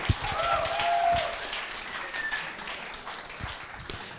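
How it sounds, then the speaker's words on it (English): Applause from an audience at a live AI product demonstration, a steady spread of clapping across the room, with voices heard underneath. "please make an applause for Synerise."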